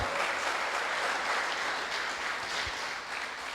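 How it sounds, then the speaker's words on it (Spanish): Applause from a church congregation, a dense steady patter of many hands clapping at a moderate distance, sustained without a break and with no voices over it. "Podemos dar un aplauso al que vive"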